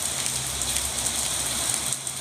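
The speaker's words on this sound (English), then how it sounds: "it's raining." Rain falls in a steady, dense hiss with scattered drops pattering on a surface, continuous and fairly loud with no voices.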